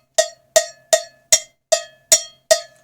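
A cowbell struck with a snare drum stick rings out seven times at a steady, even pace, each hit a bright metallic clank that decays quickly, close and alone.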